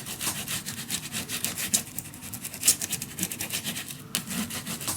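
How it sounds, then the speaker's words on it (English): Paper is burnished down for a mini album with quick, steady rubbing and scratching strokes, close and moderately faint. "Okay, burnish that down a little bit"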